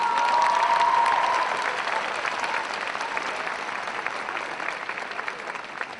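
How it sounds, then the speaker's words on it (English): A graduation audience applauds teachers, staff and parents with a dense wash of many hands clapping, steady and moderately loud throughout, slightly fading after the first second. "if you would applaud your teachers, the staff, and your parents"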